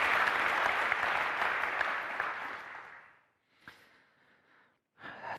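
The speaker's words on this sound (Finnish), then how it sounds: "annetaan vielä isot aplodit Antille nyt tästä" Audience applause at a panel event on the future of gases, a dense burst of clapping from a crowd that fades out after about three seconds, followed by a brief shorter swell of clapping.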